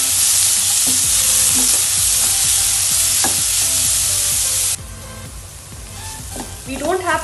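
Finely chopped onions sauté in a hot pan, a loud steady sizzle with occasional stirring scrapes, which drops to a softer hiss partway through before clattering resumes near the end.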